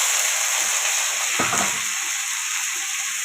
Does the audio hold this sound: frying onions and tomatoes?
yes